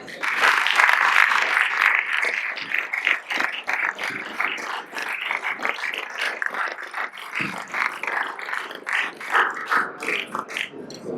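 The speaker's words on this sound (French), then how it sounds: "Je vous propose d'applaudir Clarisse Logelier." Gala audience applauding in a large hall, a dense, continuous rattle of many hands clapping that holds steady throughout, with no talking.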